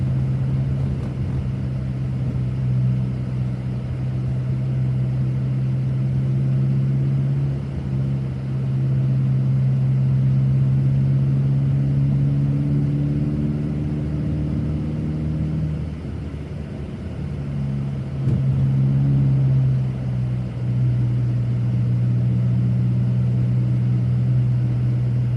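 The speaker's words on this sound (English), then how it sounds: "And I am driving on winter tires," Subaru WRX cruising on winter tires through a snowy city near freezing, its engine a steady low drone with tire rumble that rises and dips slightly, continuous and close, no talking.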